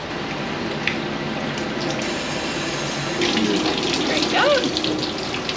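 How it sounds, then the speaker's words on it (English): Water poured through a sieve while rinsing plankton at sea, a close, steady splashing gush that swells louder toward the end, with a brief voice at the start. "we'll pour the contents into the sieve and we're going to do a couple more rinses"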